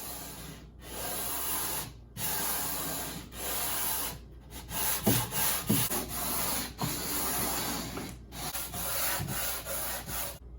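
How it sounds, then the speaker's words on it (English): Rhythmic rasping of sandpaper scrubbing wood, in steady strokes broken by short pauses, close and fairly loud with no talking. "But sanding is just awful. But here we go."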